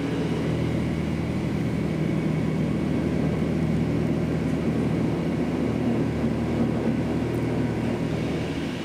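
Delta hydraulic elevator car rising in a shaft, a steady loud rumbling drone that holds unchanged throughout, with no talking.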